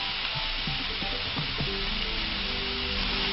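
Onion and garlic paste frying in a pan for a shrimp garlic dish, giving a steady close sizzle with a few stirring scrapes and no talking.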